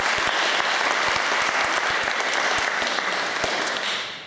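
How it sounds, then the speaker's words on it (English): Loud, sustained applause from an audience at a school debating grand final, with sharp individual claps cutting through the dense wash before it begins to fade at the end. "So a special round of applause to both teams."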